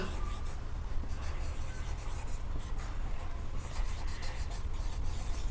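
Handwriting with steady scratchy strokes and short pauses between words, continuous and close against a low background hum.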